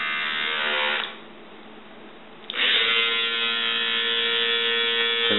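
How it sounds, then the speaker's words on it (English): An Oral-B electric toothbrush converted to run from an AC adapter buzzes loudly, cuts out for about a second and a half, then restarts with a strong, steady whine that carries through to the end. "And that's what the AC adapter sounds like."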